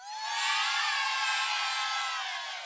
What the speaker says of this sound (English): the crowd here is loud and they are making noise